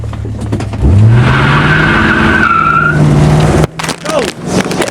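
A car's tires skid and squeal on pavement during a hard launch, with a loud engine rev rising sharply before the squeal cuts off abruptly and background noise continues.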